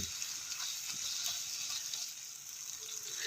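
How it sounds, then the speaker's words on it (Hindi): Mashed roasted brinjal being fried with spices for baingan bharta, a soft, fairly quiet sizzle with faint scraping of a spoon, continuous and without speech. "इसको खूब अच्छे से मसाले में हम मिक्स करते हुए भूनेंगे 1 से 2 मिनट"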